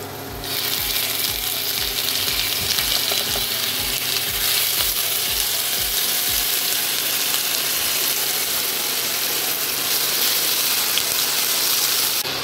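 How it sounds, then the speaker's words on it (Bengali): Chopped onions sizzling in hot mustard oil with ground spices, a loud steady fry with rhythmic scraping knocks of stirring in the first half, then continuous sizzle alone. "পেঁয়াজগুলোকে লাল লাল করে ভেজে নিচ্ছি। মিক্সিতে মিক্স করা মশলাগুলি দিয়ে দেবো।"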